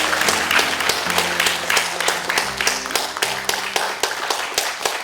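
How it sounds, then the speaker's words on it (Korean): Audience applause at an indoor talk on housing tenancy law reform, a steady wash of many hands clapping with sharp individual claps standing out, fairly close and continuous for several seconds, with faint voices underneath. "박수 부탁드리겠습니다"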